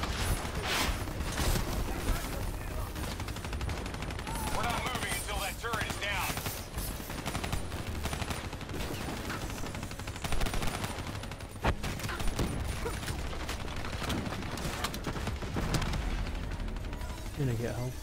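Turret gunfire in a video game, with sustained rapid machine-gun bursts and heavy impacts filling the scene. Dense and loud throughout, with voices calling out underneath.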